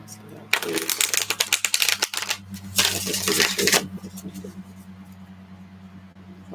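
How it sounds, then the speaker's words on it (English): Tarot cards being shuffled in two bursts of rapid riffling and flicking, close and fairly loud, over a steady low hum, followed by quieter rustling. "One last shuffle."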